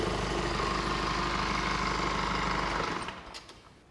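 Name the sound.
car engine running, then switched off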